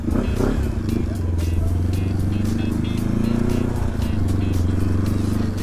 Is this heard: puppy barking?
no